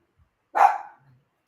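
A single dog bark rings out sharply and fairly close in an otherwise quiet room, one short burst with a faint low trailing sound after it.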